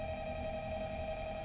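A telephone rings in the video game Five Nights at Freddy's, a loud, steady electronic ring that fills the whole moment with no voices over it.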